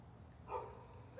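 A dog barks once or twice at a distance outdoors in a front yard during a game of fetch, a brief faint yelp set against steady low background noise.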